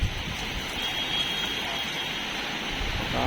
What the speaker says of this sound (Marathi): आता पूर्ण पाऊस पडताना दिसतोय खूप जास्त जोरात पाऊस आहे